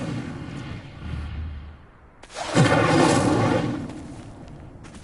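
Incendio fire spell cast in Hogwarts Legacy: a sudden whooshing, roaring burst of flame that swells and sustains for a couple of seconds over a low rumbling background, then slowly fades.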